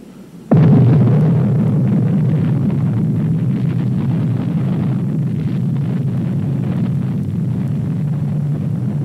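An atomic bomb explosion, the Trinity-era nuclear test of the Second World War, bursts in abruptly with a loud sudden onset and then sustains a deep, continuous roaring rumble that barely fades, with no speech over it.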